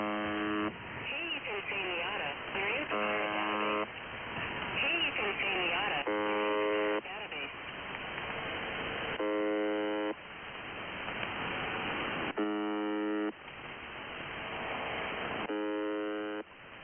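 The Russian Buzzer shortwave station sends a steady, harsh, droning buzz in repeated bursts, with strange voices and music-like sounds in between, all narrowband, muffled radio audio.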